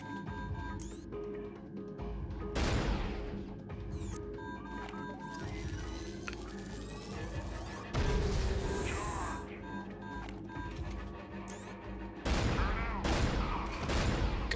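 Gunfire from a weapon in the video game The Conduit, a few loud scattered shots over game sound effects and background noise, with talk nearby.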